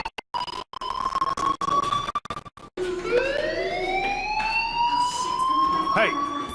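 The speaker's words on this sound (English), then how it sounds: "Hey, do you hear that fire alarm?" A school fire alarm in the video game Life is Strange sounds as a loud, steady electronic tone, first chopped into rapid pulses, then sustained with a rising wail, close and continuous throughout.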